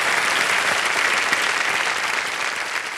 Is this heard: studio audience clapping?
yes